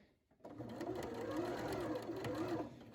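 A sewing machine starts after a brief pause and runs steadily, its rapid mechanical whir and needle chatter stitching fabric close by for a few seconds, with no one talking over it.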